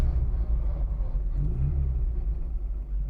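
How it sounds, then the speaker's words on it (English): A 1963 Austin Mini Cooper engine with straight-cut gears drones in a steady, loud rumble from inside the car as it pulls away, with its pitch rising slightly. "Look at this thing accelerate."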